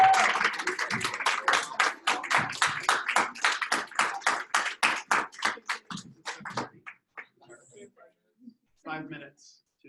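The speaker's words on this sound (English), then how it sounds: "let's give a round of applause for all of the participation" Scattered clapping from a small group at a banquet, fairly quick at first, thinning into a few sparse claps before fading out.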